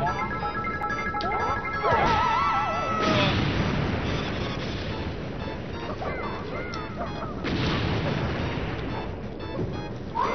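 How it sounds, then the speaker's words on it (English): Bombs exploding in the Four Swords Adventures video game, a run of crunchy crashing blasts over busy game music and effects, with a burst near two seconds and another around three and seven seconds. "I set the bombs"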